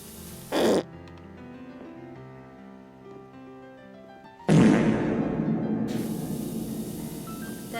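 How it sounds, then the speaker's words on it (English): Two loud farting blasts from a swimming livestream, a short burst near the start then a longer sustained raspy one that trails off, with soft tonal music running underneath. "There's all the fart noises."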